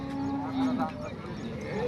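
A calf at a busy cattle market gives a drawn-out moo close by, set against a murmur of crowd noise and other livestock.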